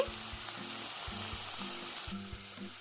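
Bitter gourd slices frying in oil, a continuous soft sizzle with faint rhythmic knocks beneath it throughout.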